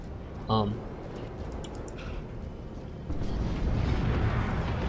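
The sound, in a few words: stick bomb explosions in Dawn of War 2 video game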